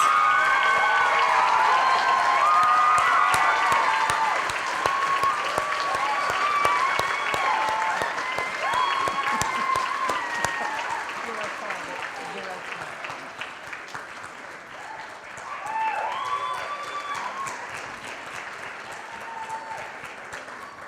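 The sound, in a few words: audience applause for Miss Auburn representatives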